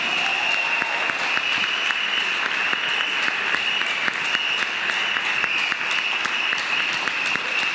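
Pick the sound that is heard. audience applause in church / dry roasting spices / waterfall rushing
audience applause in church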